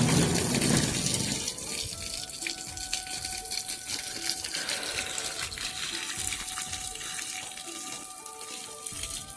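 Water poured onto tomato plants in a village garden while watering them, a steady broadband splashing and gushing that starts loud and continues evenly throughout, with faint background tones.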